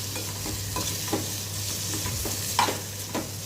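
Potato pieces frying in oil with curry leaves are stirred in a pan for a South Indian dry potato dish, giving a steady sizzle with repeated scraping strokes about every half second and no talk over it.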